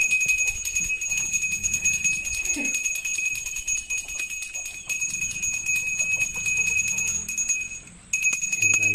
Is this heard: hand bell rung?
yes